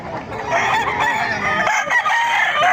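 A rooster crows loudly and close at a Bocaue market, a long strained call held for several seconds over busy background noise, with clucking and other fowl audible.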